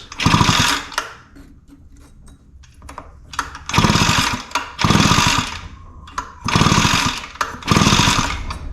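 Repeated rough bursts from an Echo leaf blower being pull-started with the spark plug refitted, five or six loud, close rasping pulls separated by short quiet gaps, with no sign of the engine catching.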